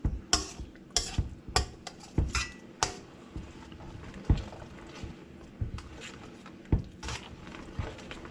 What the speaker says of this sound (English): I mix them real good together and then I'm gonna let it slow cook